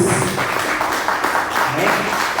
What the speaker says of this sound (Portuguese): Você pode aplaudir a palavra de Deus no nome de Jesus?